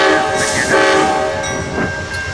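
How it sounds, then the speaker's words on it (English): Amtrak passenger train pulling out of a station, heard as a loud, steady rail rumble with a sustained horn-like tone running throughout, no talking. "Here they are, pulling out Amtrak PO 80."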